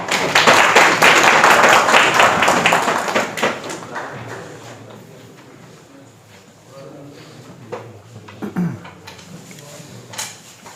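An audience claps loudly at a retirement ceremony for a teacher. The applause is dense for about three seconds, then fades to scattered claps, shuffling and room noise.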